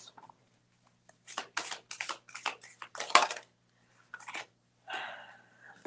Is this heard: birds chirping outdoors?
no